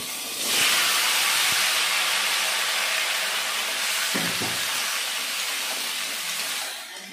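Cut mankochu taro dropped into hot oil in a pan, a loud, bright sizzle that bursts in and holds steady for several seconds before easing off, with a brief clatter partway through.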